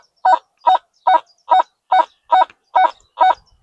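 A Makro Racer 2 metal detector sounds over an iron-cored 2p coin, giving eight evenly spaced, loud honking beeps in a steady rhythm.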